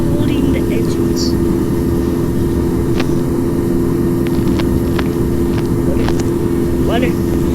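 Aircraft engines at full throttle in the Infinite Flight flight simulator game, a loud, steady, dense roar that runs unbroken throughout, with a few faint, brief chirps or voices over it.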